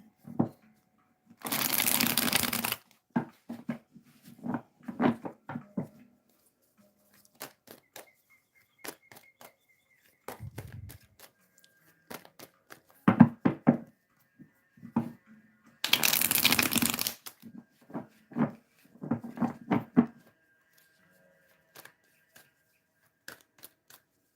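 A deck of tarot cards is shuffled in two long riffling bursts, with quieter card taps, slides and handling sounds between them, close up and with no talking.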